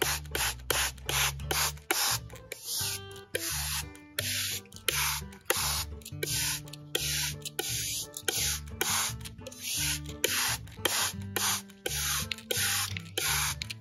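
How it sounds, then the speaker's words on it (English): Rapid, repeated hissing pumps of a hand squirt bottle misting water over freshly planted begonia seeds, each spray short and close, in a steady rhythm. "I'm just going to take my squirt bottle and"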